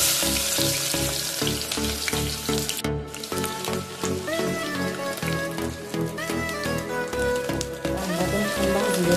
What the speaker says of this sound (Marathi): तेल गरम झाले, आता त्यामध्ये कांदा घालून घेते।